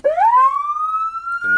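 Siren on a truck rigged with a Kenwood mic, sounding its wail tone: a loud electronic tone sweeping upward and holding high, close and alone, with a brief change in pattern at the end.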